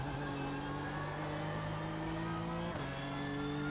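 A BMW M4 GT3 race car engine in the iRacing sim drones steadily at sustained revs, loud and continuous, with a brief shift in pitch near the end as the tone drops and climbs again.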